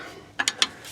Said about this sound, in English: Try a screwdriver and pray for good things.